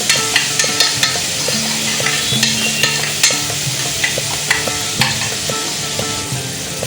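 Green masala paste stirred into softened onion and tomato for a rustic village-style matki usal, sizzling steadily with repeated spoon scrapes and taps against the pan, close and fairly loud, no talking.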